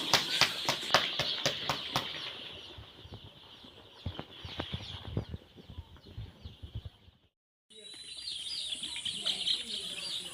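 Baby chickens chirping in a group, a dense run of high peeps that is steady for about seven seconds, cuts out briefly, then comes back just as busy.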